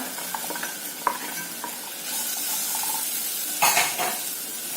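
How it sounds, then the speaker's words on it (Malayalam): Fried leftover idli added to a pan and stirred, giving a continuous sizzle with scattered spatula scrapes and clatters, plus a louder burst of frying near the end, close up and free of speech. "ഇനി ഇതിലേക്ക് നമ്മുടെ ഫ്രൈ ചെയ്ത ഇഡ്ലി കൂടെ ആഡ് ചെയ്ത് കൊടുക്കുക."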